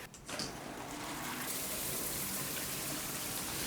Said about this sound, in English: Flush that toilet real quick.